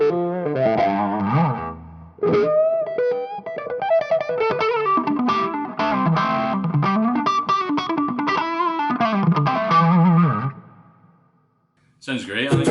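An electric guitar plays through a Jen Cry Baby Super wah pedal, and its sweeping, vocal-like filter swells open and close over sustained, effected notes and chords for about ten seconds before fading.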